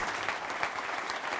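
Sustained audience applause fills the room from start to finish, a dense steady patter of many hands at a live tech and sci-fi talk event, fairly loud with no voices over it.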